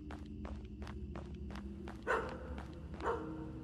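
A dog in the indie horror game Graveyard Shift, set at night security in a cemetery, gives two short barks a second apart over a steady patter of footsteps.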